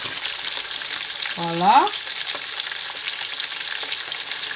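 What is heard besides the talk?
sea bream fish frying in a pan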